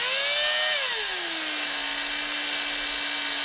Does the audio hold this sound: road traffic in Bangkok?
no